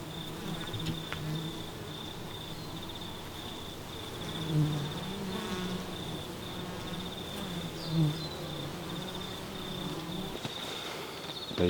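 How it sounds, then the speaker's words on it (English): Wasps and bees buzz steadily around a wooden beehive entrance in winter, a close, continuous droning hum with a few louder swells as insects pass near, alone with no talking. "You can even see there's a wasp here, you know, just sitting out the front of the hive."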